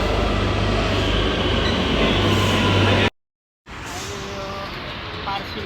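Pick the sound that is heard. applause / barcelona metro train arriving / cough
barcelona metro train arriving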